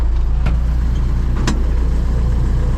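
A ZIL truck hauling fertilizer to a wheat field runs steadily in sixth gear, its loud, close engine droning continuously with two brief sharp clicks or knocks along the way.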